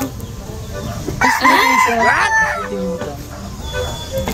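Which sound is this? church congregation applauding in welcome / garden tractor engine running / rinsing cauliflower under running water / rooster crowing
rooster crowing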